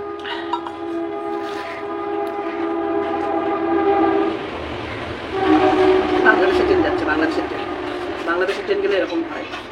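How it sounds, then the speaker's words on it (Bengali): A Bangladeshi train rolls past loudly, its horn sounding in long sustained tones followed by heavy rumbling and rattling of the cars as it goes by nearby. "বাংলাদেশের ট্রেন গেলে এরকম হয়, আওয়াজটা বেশি হয়।"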